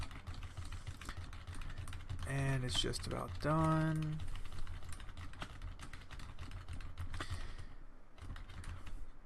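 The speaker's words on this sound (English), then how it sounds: "I will keep typing, I will keep moving the mouse" Quick, irregular keystrokes clack on a computer keyboard as random characters are typed, soft and fairly close, with a person talking briefly midway through the tapping.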